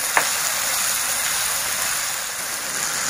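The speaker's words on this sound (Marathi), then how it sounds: "आणि हे हिरवे मटार हे आपण व्यवस्थित परतून घेऊया" Green peas sautéed in a pan while making vegetable dum biryani, heard as a steady, loud, close sizzle that starts with one brief clunk.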